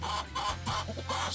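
A few gray backyard chickens cluck close by, short throaty clucks in quick succession over a steady low background hum.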